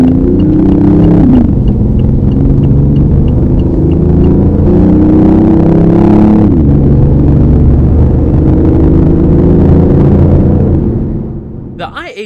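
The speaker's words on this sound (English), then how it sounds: "giving off a fantastic soundtrack while accelerating" A 2015 BMW i8 plug-in hybrid accelerates hard, its engine droning loud and close and its pitch climbing steadily through gear changes before easing off at the end.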